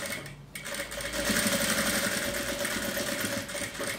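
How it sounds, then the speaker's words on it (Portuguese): A sewing machine stitches steadily around the curved edge of a cup coaster made from fabric scraps, its fast even motor whir running close and continuous after a brief pause at the start. "costura aí com muita calma pra ficar bem certinho. Ó, vai costurando a volta toda."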